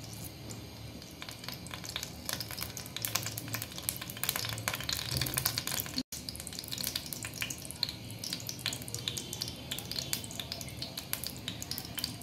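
Chopped onion frying in hot oil in a pan, a steady close sizzle that runs the whole time, with stirring clatter and short crackling bursts and a brief cut partway through.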